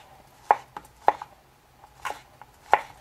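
A Spyderco Paramilitary 2 knife slicing a banana on a cutting board, producing four or five sharp, close taps as the blade meets the board, spaced irregularly over a few seconds with quiet gaps.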